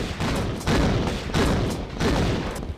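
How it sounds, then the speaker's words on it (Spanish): Shotgun blasts in the 1996 PC game Tomb Raider, fired in the Sanctuary of the Scion level: four loud, booming shots in a steady rhythm about two-thirds of a second apart, each with a broad crack and rumbling tail. "Disparos de escopeta, cayó ese bicho."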